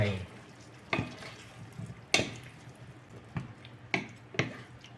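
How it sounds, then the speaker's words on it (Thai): Yardlong beans and pumpkin stir-fried with sauce in a pan, a soft sizzle running underneath while a spatula scrapes and clacks against the pan in several sharp, irregular strokes. "นี่ครับผัดผัดให้ ให้ซอสมันซึมเข้าไปในผักด้วย"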